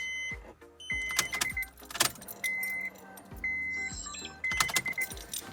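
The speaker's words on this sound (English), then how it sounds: "I like to prime the car a few times just to make sure there's no leaks" A car with a K-series engine swap and newly tucked fuel lines has its ignition cycled several times to prime the fuel pump. Repeated on-off whirs and clicks come through, with keys jangling, close and fairly loud.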